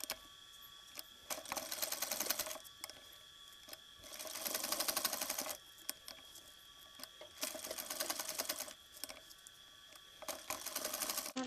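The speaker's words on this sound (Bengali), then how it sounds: "এভাবে সেলাই দিয়ে নিতে হবে" Sewing machine stitching the seams of a half pant, running in close, loud bursts of rapid needle chatter that start and stop several times with short pauses between runs.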